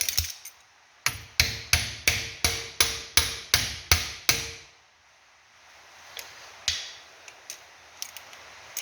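A part tapped into place on a truck's front axle, about ten evenly spaced sharp metallic hammer blows in a quick run, loud and close, followed by quieter scattered knocks and clinks.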